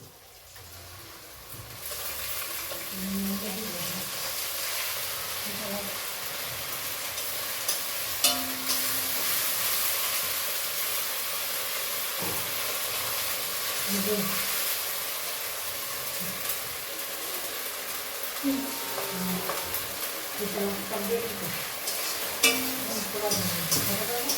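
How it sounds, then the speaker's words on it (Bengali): Onions with spices frying in a pan for a small-fish tomato curry, a steady broadband sizzle with scraping stirring strokes throughout, some faint voices in the background. "আমি একটু নাড়াচাড়া করে নেব।"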